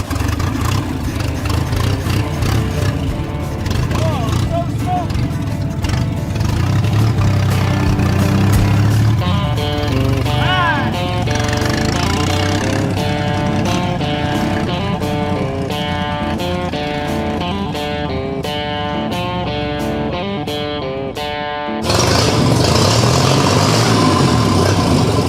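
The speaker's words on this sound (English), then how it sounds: "Start the engine, my friend." A restored Ford Capri V6 idles steadily nearby with a throaty, uneven rumble, then revs and settles, loud and continuous for the whole stretch.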